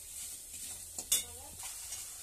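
Soybean curry with chilli and turmeric powder stir-fried in a pan, a soft continuous sizzle with a few sharp spatula scrapes and taps, close and fairly quiet, with no talk.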